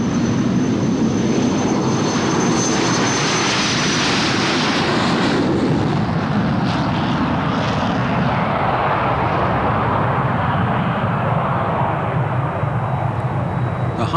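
An English Electric Canberra jet aircraft roars steadily overhead, a loud broad rumble with a high whine at the start, fading slightly as it passes.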